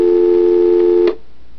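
A steady telephone tone on a live FM radio show plays loud and unbroken for about a second, then cuts off abruptly, leaving faint background hiss.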